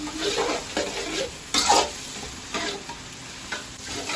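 Sliced onions for a cabbage-potato gravy stirred and fried in a pan, a steady close sizzle broken by several scraping stirring strokes, no talking.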